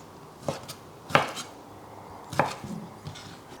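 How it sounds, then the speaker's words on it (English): Knife chopping bacon into thin strips on a board, three or four distinct, sharp close-up cuts spaced about a second apart, with quiet between them and no talking. "If you're using bacon or speck, you'll want to just cut it into thin strips."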